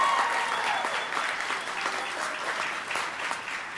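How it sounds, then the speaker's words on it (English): An audience at a community gathering in San Antonio breaks into sustained applause, dense and even clapping heard close and fairly loud, fading slightly toward the end. "Let's give them all a big round of applause"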